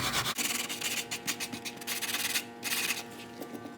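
Steady rhythmic scraping of sandpaper across a drywall patch, back-and-forth strokes close by with a short pause midway.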